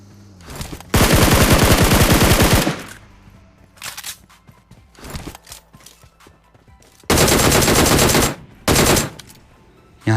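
Automatic gunfire in the PUBG Mobile video game comes as loud, close bursts: one long stream, two short spurts, then another long burst and a brief final volley, with quiet gaps between.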